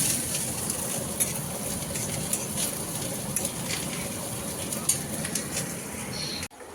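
Sweet corn with onion fries in a pan with a steady, faint hiss and sizzle that runs continuously until it cuts off abruptly near the end.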